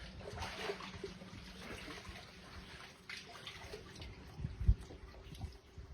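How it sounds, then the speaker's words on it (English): A person climbs out of a bath, water sloshing, dripping and trickling off the body and back into the tub, close and moderately loud with one heavier splash near the end. "I think I'll get back up out of the water now."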